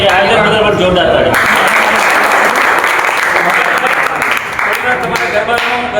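Loud, sustained clapping from a crowd at a college Navratri garba celebration. It fills the whole stretch without a break, with voices mixed in underneath.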